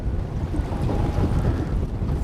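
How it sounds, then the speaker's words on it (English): Steady wind gusting outdoors on open water while fishing, a continuous low rumble of buffeting air with some wave wash, loud and close to the microphone, no talking. "The wind's at my back, so shouldn't be too bad there."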